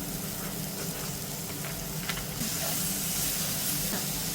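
Chopped onion and green chilli sizzling in a pan, a dense, steady hiss and crackle close by that swells louder and brighter midway as more goes into the hot oil.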